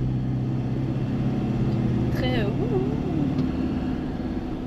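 Land Rover Defender engine droning steadily at around 50 km/h in third gear, a continuous low rumble throughout with a brief higher-pitched squeal partway through.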